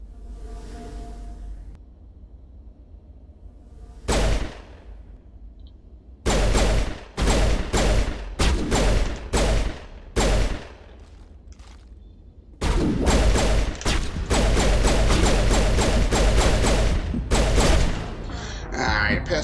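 Pistol fire in Mass Effect Legendary Edition on PS4: loud, sharp shots in scattered single bursts, then a dense run of rapid back-to-back shots, with a faint voice in places.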